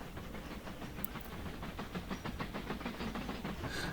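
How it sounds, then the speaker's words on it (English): Coal train running in the train-building game Mashinky: a steady, faint rolling rumble with a regular rhythmic clatter and a light hiss, heard alone with no talk. "Where's our latest coal train?"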